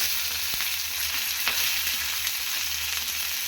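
Cumin, onion and green chilli frying in oil, a steady close sizzle with a few light stir clicks, moderately loud and without talking.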